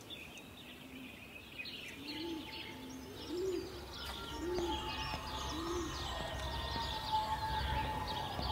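Birds coo softly in the video game Everybody's Gone to the Rapture: four evenly spaced, mellow coos at moderate distance over a faint ambient hum and thin high tones.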